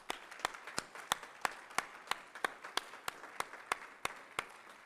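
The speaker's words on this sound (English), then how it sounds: "so let's give them a round of applause." Audience applausing at a fire academy graduation ceremony, though it sounds like a single pair of hands clapping at a steady, even rhythm, fairly faint and roomy, about fifteen claps in five seconds.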